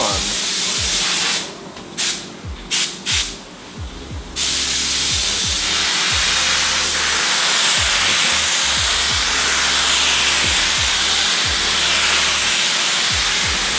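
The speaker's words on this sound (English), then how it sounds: "The car's being painted." A spray gun paints a BMW E21 car body in a booth, a loud continuous close hiss that briefly stutters in short bursts before resuming steadily, with a low background hum underneath.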